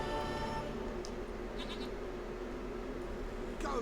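A goat bleats in the fantasy game Witcher 3, a few short wavering cries over a steady low background hum, fairly faint and close by.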